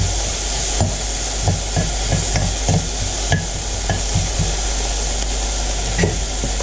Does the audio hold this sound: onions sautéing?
yes